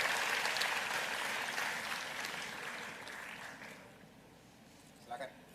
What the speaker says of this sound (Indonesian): Mari kita tepuk tangan dulu untuk Pak Erlangga.